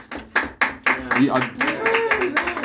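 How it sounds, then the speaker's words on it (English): A small group of people clap in a brief, uneven burst, with a few sharp claps standing out at the start. Talking and laughter run over the clapping throughout. "give Isaac a big round of applause."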